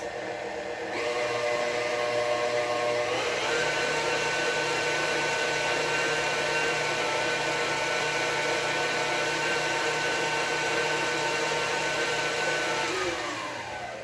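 An electric hand mixer whirs steadily through pumpkin bar batter, a loud continuous motor hum starting a second in, shifting pitch around three seconds and winding down near the end, with no talking.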